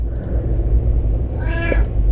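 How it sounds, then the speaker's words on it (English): A cat meows loudly and close, one drawn-out meow near the end over a steady low background rumble, with no talking. "I was petting the cat so that he shut up. And now that I stopped, he meowed again."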